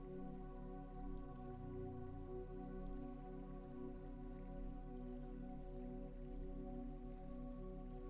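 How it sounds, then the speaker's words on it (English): Rain falls in a soft, even patter that stays steady and unbroken throughout, faint and distant beneath a low droning hum. "The rain keeps arriving."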